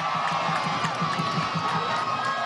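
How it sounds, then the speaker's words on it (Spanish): A crowd cheers and whoops for arriving motorcyclists and mototaxi riders at a Venezuelan rally for entrepreneurial mothers, with steady loud roaring, shouts and excited voices throughout. "Un aplauso a los motorizados y a las motorizadas."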